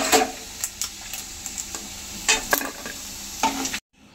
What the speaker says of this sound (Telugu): ఈ కలర్ వచ్చే వరకు చికెన్ చేసుకోవాలన్నమాట, అప్పుడు గట్టిగా ఉంటుంది